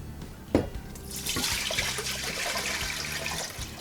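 Water pours steadily for a vegan brine, a brief knock at the start, then a continuous rushing flow that fills most of the stretch, close and fairly loud, with no talking.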